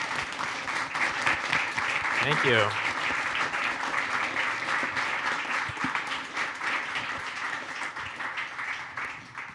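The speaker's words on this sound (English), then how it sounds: "give Kelly a great round of applause" Sustained audience applause after a tech talk, steady and full throughout, with a brief spoken thanks and a short whistle-like voice rising over the clapping.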